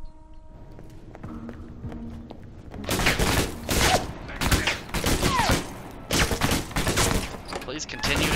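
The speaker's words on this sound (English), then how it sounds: "Please continue to shoot each other." Gunfire in the video game Alpha Protocol: after a quieter stretch with faint tones, rapid bursts of shots erupt and continue as a steady, loud barrage.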